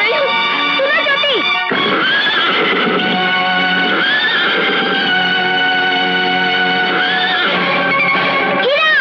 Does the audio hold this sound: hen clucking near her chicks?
no